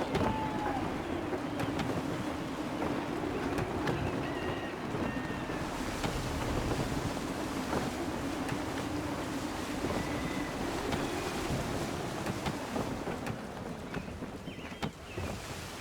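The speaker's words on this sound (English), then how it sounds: "Gusty winds can be difficult to manage." Gusty wind and rolling waves surround a sailing ship in Assassin's Creed III, a steady broadband rush of air and water with creaks and splashes, continuous and fairly loud throughout.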